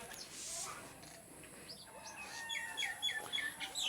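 Chickens clucking and chirping in a rural village yard, faint and somewhat distant, in short scattered calls over quiet background noise, with a voice talking briefly.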